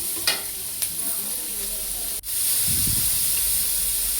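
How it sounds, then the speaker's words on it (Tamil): Chopped onions for a drumstick chicken curry fry over high heat, a close, continuous hiss and sizzle with a few soft stirring clicks and one brief pause. "சப்பு நல்லா ஃபாஸ்ட்டாக வச்சுக்கிட்டு வெங்காயத்தை நல்லா வதக்கி விடுவோம்"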